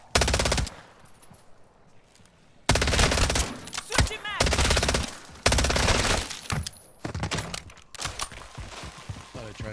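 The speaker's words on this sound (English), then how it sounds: "you put a circuit thing in there and it'll turn on and start shooting everything" Automatic turret fire in Call of Duty MW3 Zombies: loud bursts of rapid gunfire in several long stretches, separated by quieter gaps, with game sounds and some voice chatter mixed in.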